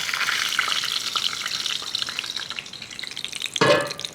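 Lamb shanks brown in hot oil and butter in a pan, a dense sizzling crackle with a bright spatter that swells suddenly near the end, no voices over it.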